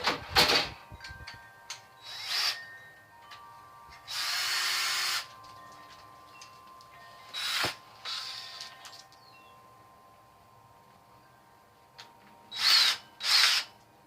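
An adjustable hole saw on a power drill cuts a hole in a plastic barrel for a sub-irrigated wicking planter. Several short, loud whirring bursts of drilling are separated by quiet gaps, and there is no talking.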